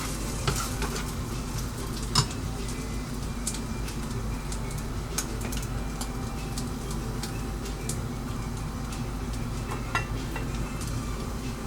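Fried eggs sizzle steadily in a pan on the stove for a fried egg mayo sandwich, a constant crackling hiss broken by a few sharp clinks of utensils against the pan.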